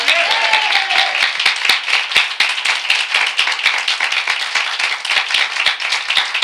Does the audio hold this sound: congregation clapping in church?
yes